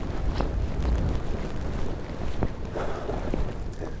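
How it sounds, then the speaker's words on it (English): Gusty wind rushes across the microphone in uneven bursts in snowy winter woods, fairly faint, with no voices. "Very windy, snowy."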